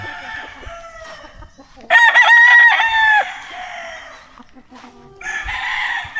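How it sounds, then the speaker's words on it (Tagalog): Chickens and roosters in a farmyard give a loud crow up close, with clucking and other birds calling around it. "Patanaw lang ta mo sa mga manok."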